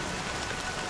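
Steady, dense rain hisses evenly and close throughout a Honkai Star Rail cutscene, with no voices.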